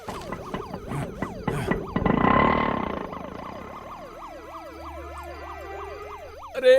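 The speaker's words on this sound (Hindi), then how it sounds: "पुलिस का सायरन है" A wailing police siren in an action movie fight scene sweeps up and down repeatedly, fairly close, with a burst of rumbling noise partway through and no talking.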